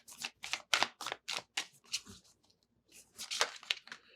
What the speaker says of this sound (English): do my due diligence and actually shuffle this deck